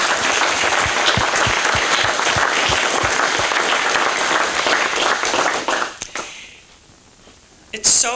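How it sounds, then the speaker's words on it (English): A crowd applauds at a Wisconsin steel erection company, the family business Red Cedar Steel Erectors in Menomonie; dense, loud clapping runs several seconds, then dies away, with a voice starting near the end. "please join me in giving the company and all of you a round of applause for your work getting this."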